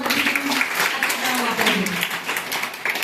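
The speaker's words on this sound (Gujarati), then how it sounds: "ભાઈ બધી ટીમ માટે તાળીઓ પાડો" A classroom group at a freedom-fighter quiz claps for all the teams, a dense burst of many hands applauding close by with voices mixed in throughout.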